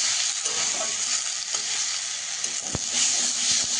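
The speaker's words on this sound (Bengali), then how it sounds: "ডালিয়া, মুগ ডাল, পালং শাক, কুমড়ো, আলু একসঙ্গে একটু হালকা করে একটু কষিয়ে নেব" Daliya, moong dal, spinach, pumpkin and potato are sautéed together in a pan, giving a steady close sizzle with occasional light stirring taps and one sharp clack.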